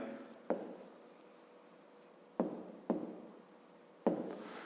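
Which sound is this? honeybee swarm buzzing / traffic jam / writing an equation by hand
writing an equation by hand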